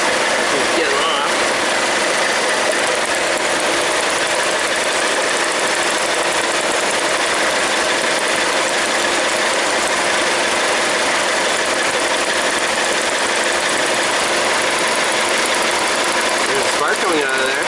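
A 2003 Mazda Protege engine with a misfire at idle runs during a cylinder drop test, giving a steady, continuous idle drone with a faint uneven vibration throughout.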